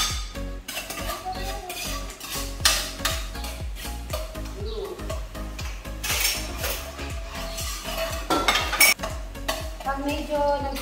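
Garlic sizzling in a pan for soup, stirred steadily with a utensil that scrapes and clinks against the metal in a quick repeated rhythm, close and fairly loud throughout.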